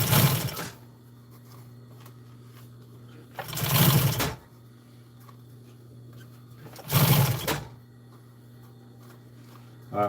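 Sewing machine stitching a hem on fabric for custom truck storage, three separate bursts of fast whirring stitches, each about a second long, with a steady motor hum between them.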